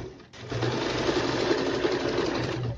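A straight-stitch sewing machine runs steadily through fabric for a table mat, a close, continuous mechanical whirr with fine rapid stitching beneath, starting after a brief quiet moment.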